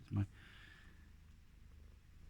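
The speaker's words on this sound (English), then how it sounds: "Sorry, my cat's joined me." A pet cat purrs softly and close by after a brief thump at the start, a low continuous rumble under a quiet indoor background.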